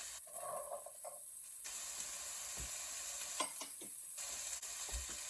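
Onions, carrots and squash sautéing in butter in a saute pan, a steady sizzling hiss throughout, with a few soft stirring scrapes and knocks.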